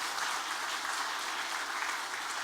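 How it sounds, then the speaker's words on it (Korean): A congregation claps at a Christmas Day church service to thank a male vocal ensemble, even and sustained applause filling the room with no voices over it. "박수 한번 해주시고요."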